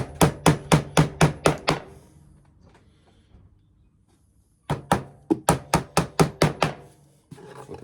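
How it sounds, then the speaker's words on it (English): A hammer drives nails into the wooden side of a homemade cigar box guitar: a fast run of about seven sharp, close blows, a quiet pause, then another rapid burst of about eight strikes. "I'm going to actually put a few nails in now on the side."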